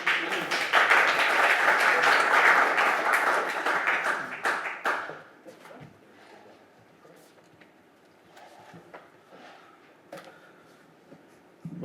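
An audience at a church family meeting claps in a dense burst of applause that fades after about five seconds, followed by quieter room sounds and scattered taps.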